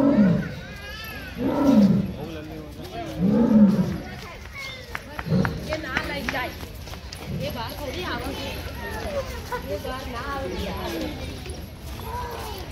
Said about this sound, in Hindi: आज मैं आप लोगों को रियल शेर का दहाड़ सुना रहा हूँ।